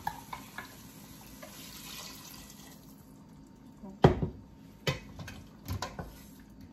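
Okra sauce with algae being stirred in a pot, with a few distinct scraping knocks of the spoon against the pot after a softer, steady stretch of kitchen noise.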